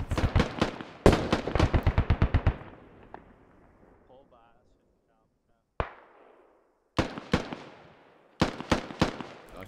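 Automatic rifle fire in SquadOps, with sustained rapid bursts of rounds, a pause, then a single crack and several shorter bursts, loud and close.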